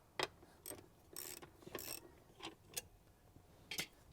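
Ratchet clicking in short bursts while loosening the bottom 14mm bolt on a 4th-gen Toyota 4Runner seat belt, several separated crisp ratcheting runs, close and fairly quiet with no talk.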